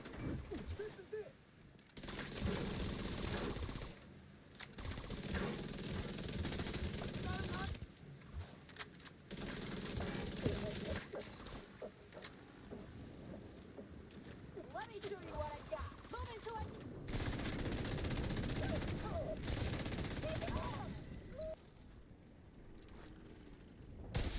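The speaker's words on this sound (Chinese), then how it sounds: "机枪没子弹，我们切到冲锋枪" A submachine gun fires in The Division 2 during combat, with loud bursts of rapid automatic fire coming in several long stretches, separated by brief lulls and mixed with game effects.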